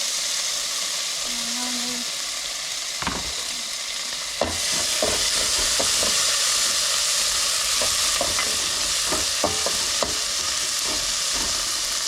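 Tomatoes fry in a pan and are stirred with a utensil. A steady sizzle grows louder once they are added, broken by frequent close scraping clicks, with a brief tone early on.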